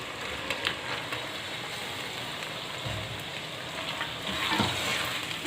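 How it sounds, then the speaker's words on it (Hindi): Boneless chicken frying in oil with ginger garlic paste, a steady soft sizzle and crackle throughout with occasional stirring scrapes, close and fairly quiet. "4-5 मिनट तक मैंने चिकन को फ्राई कर लिया।"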